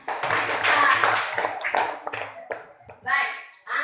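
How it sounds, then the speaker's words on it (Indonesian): Children clap their hands in a classroom, a burst of quick patter that fades and recurs in short rounds, mixed with young voices talking over it. "Tepuk tangan."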